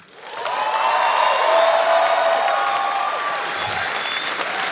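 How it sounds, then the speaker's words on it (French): A packed audience at a drag edition of a gong-show talent contest bursts into applause and whoops, the clapping swelling quickly to a full roar with scattered cheers and shouts, then holding strong before easing slightly. "Par applaudissement et en toute honnêteté, j'aimerais vous entendre faire du bruit"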